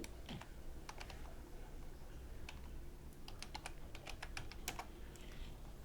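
A computer keyboard clicks through a search term in two short, scattered runs of light taps over a steady low hum, faint and fairly close, with no one talking.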